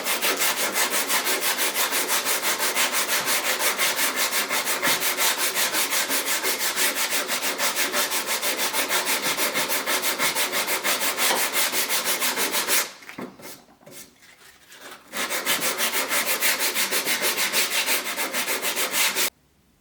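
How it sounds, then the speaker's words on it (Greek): Hand sanding of wood with 100-grit sandpaper to smooth away file marks, a steady loud scratchy rubbing that runs continuously, pauses briefly near the end, then resumes. "Και τώρα με εκατοστάρι γυαλόχαρτο θα σβήσω τα σημάδια της λίμας."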